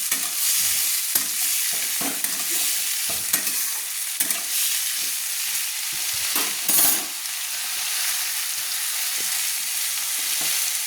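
Cut potatoes fry in a pan with bitter gourd, a steady close sizzle broken by repeated scraping and knocking as they are stirred.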